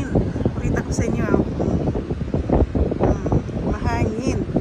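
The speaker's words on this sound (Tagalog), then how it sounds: "Sobrang yung hangin." Strong, cold wind buffets the microphone at Jacksonville Beach, Florida, a continuous rough gusting roar throughout while a person talks over it.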